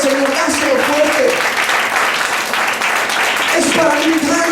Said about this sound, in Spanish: Si le vas a dar un aplauso al Señor, dáselo fuerte